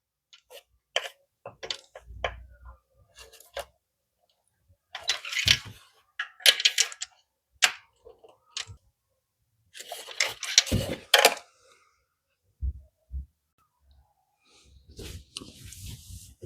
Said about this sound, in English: you can torque them to factory specifications, which is 13 foot-pounds or 18 Newton meters.